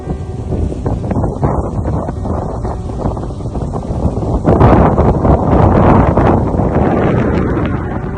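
Steady, loud wind gusting across an open, cold, misty hilltop at Ilaveezhapoonchira in Kottayam, roaring into the microphone and swelling stronger in the second half, with no voices.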